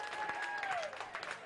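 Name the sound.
crowd applause for both baseball teams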